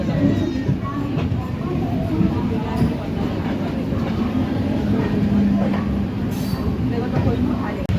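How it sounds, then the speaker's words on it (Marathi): The 11301 Udyan Express pulls out of Kalyan Junction with a steady, loud rumble and rattle of coaches, carriage clatter running continuously while people talk nearby. "9:21 आपली ट्रेन कल्याण जंक्शनवरून निघालेली आहे"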